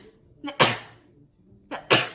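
Two sneezes burst out close by, each a quick intake followed by a sharp explosive blast, spaced over a second apart in a quiet room.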